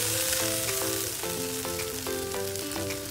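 Eggplant and tomato cook in a pan after water is added, giving an even, close sizzle and bubbling that continues steadily for a few seconds.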